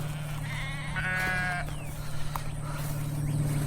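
A sheep bleats a few times over a low steady engine hum, nearby and moderately loud.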